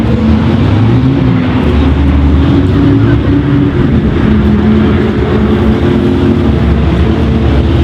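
A loud, steady engine drone from an F5000 racing car holds throughout with low rumbling tones and no pauses, running close by.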